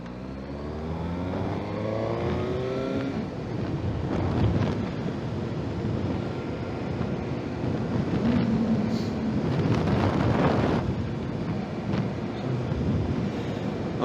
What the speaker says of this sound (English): sort of cruising speed now, so letting the engine warm up a bit before I actually test it for power and stuff.